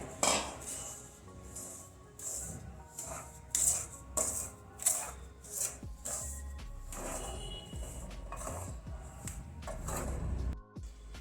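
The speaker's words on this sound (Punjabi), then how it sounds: "ਆਪਾਂ ਇਹਦੇ ਵਿੱਚ ਖੰਡ ਪਾ ਦਾਂਗੇ ਖੰਡ ਪਾ ਕੇ ਇਹਨੂੰ ਮਿਕਸ ਕਰਾਂਗੇ" A metal spoon clinks and scrapes against a pan while sugar is stirred into warm roasted rice flour for Punjabi pinni sweets, giving irregular, close, bright taps with quieter scraping between them.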